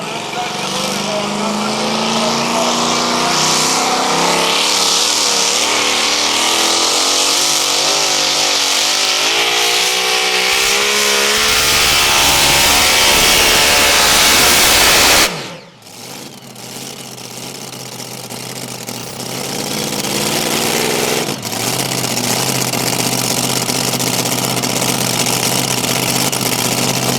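A pulling truck's engine roars loudly at a truck and tractor pull, climbing in a long sustained rev before cutting off abruptly, then a rougher, lower engine drone carries on; a voice is faintly audible beneath.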